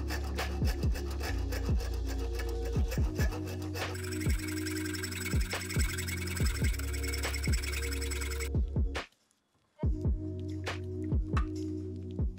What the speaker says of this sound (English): Just gonna put the plug in the vise, chop the end off so we can look at the insulator at the bottom.